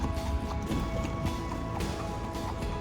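Horse hooves of a carriage horse clip-clop in a steady trotting rhythm on a hard street in Seville, Spain, with traffic and city noise around them.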